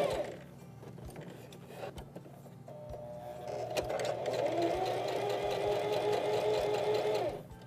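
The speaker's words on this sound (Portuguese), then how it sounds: "Então, eu vou costurar aqui algumas pra gente ver." Domestic sewing machine stitching patchwork pieces for an apron, a low motor whir that rises into a steady fast mechanical buzz for several seconds before stopping, close and moderately quiet.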